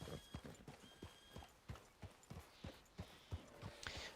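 Horse hooves clip-clop at a steady trotting rhythm in Red Dead Redemption 2, evenly spaced, fairly close and quiet, with no talk over them.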